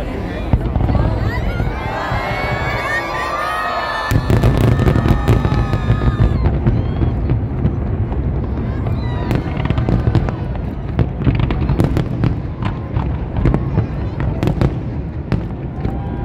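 New Year fireworks burst over ICONSIAM and Asiatique in Bangkok, heard from Sathorn Bridge: repeated sharp crackling bangs and booms of varied loudness over a murmuring crowd, with voices talking and whistling tones early on.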